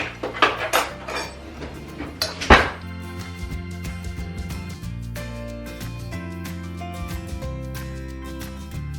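Gnocchi dough being mixed with flour in a bowl: a few loud clanks and scrapes of utensil against bowl early on, then quieter irregular knocks and taps, with no speech.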